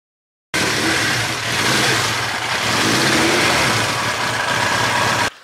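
A 1982 Suzuki GS1100E motorcycle engine runs loud and close for about five seconds, a continuous rumble with a rise in revs, starting and stopping abruptly.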